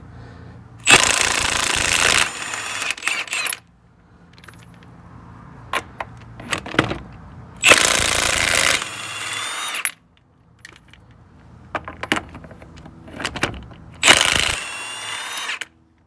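Impact wrench zips lug nuts off a 2016 Dodge Charger SRT 392 with a 22 mm socket: three loud, sharp buzzing bursts a few seconds apart, each followed by metallic clinks and rattles of the nut, close up and without speech.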